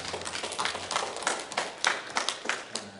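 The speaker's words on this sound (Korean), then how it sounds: "우리 하나님께 감사와 영광의 박수를 드립니다." A church congregation claps together during a Sunday Korean worship service, producing a steady patter of mid-level hand claps that rises in distinct bursts, with no talk over it.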